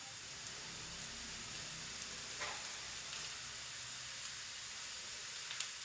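Lightly browned onions sizzle in a pan as turmeric is added, a faint continuous frying hiss with a small stir or clink.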